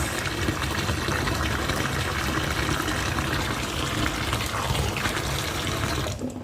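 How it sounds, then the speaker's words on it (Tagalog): Water from a tap runs steadily while vegetables are washed in a sink, a continuous close splashing that stops near the end. "Samahan niyo ako mga karosas, maglinis tayo ng mga gulay."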